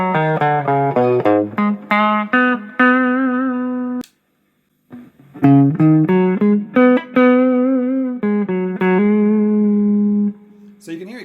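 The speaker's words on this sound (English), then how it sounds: "So we're just clean at the moment with a bit of reverb." A Westfield Les Paul electric guitar plays a clean tone with reverb: loud, close single notes and short melodic runs that ring out, with one brief silent gap partway through.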